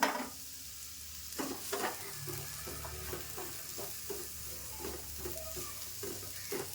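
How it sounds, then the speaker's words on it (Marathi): Onion dry-roasts in a hot, oil-free pan, with a quiet sizzle under repeated scraping stir strokes that come in an irregular rhythm, close and fairly soft. "आता कांदा आहे ना आपल्याला असा एकदम भाजून घ्यायचा आहे. मस्त खरपूस असा भाजून घ्यायचा."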